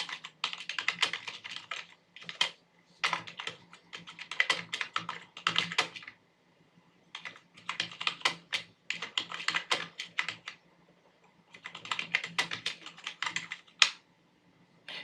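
Quick bursts of keystrokes on a computer keyboard as a postal address is typed into an online university registration form, clicking in uneven runs separated by short pauses, close and clear with no talking.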